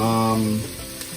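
Large shrimp hitting a hot pan for shrimp scampi, giving a short burst of close sizzling and frying hiss over a low steady tone that fades after a moment, with no talk.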